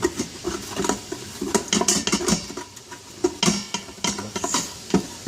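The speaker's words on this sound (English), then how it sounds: "And I use this little spatula here, and we give it a good deglazing." A small spatula scrapes the bottom of an Instant Pot inner pot while red wine deglazes a pork roast, giving repeated close scraping and clinking strokes with a faint sizzle underneath.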